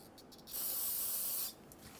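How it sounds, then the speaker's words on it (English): Brake parts cleaner sprayed onto the oil drain area of a 2000-2007 Ford Focus, one close, loud hissing burst lasting about a second. "Use brake parts cleaner to clean the area."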